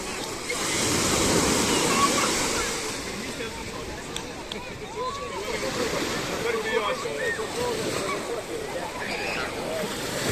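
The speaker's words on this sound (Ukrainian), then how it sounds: "Причому котиться хвилька за хвилькою і так цікаво." Ocean waves roll one after another onto a volcanic black sand beach, a near, steady wash of surf that swells early and keeps churning, with voices faintly present.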